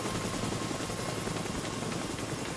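A helicopter in a shooter video game thunders with a loud, steady rotor chop that fills the whole stretch, alone with no voices.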